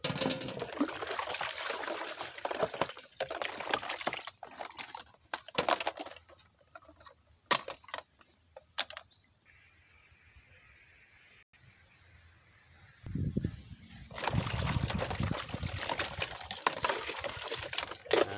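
Rainwater pours and splashes in uneven surges, loud at first, quieting into trickles and clinks, then gushing strongly again.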